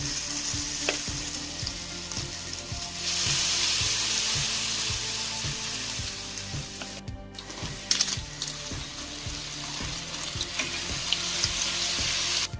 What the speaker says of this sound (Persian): کم کم 1 قاشق از قاشق کارتوشکا رو در روغن میاندازیم